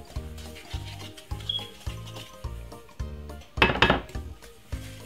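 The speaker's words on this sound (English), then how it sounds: "just simple cream it together like this until it gets really fluffy" A spoon creams butter and sugar together in a bowl, making steady, evenly spaced scraping and knocking strokes about twice a second, with one louder, harsher scrape near the end. No voices.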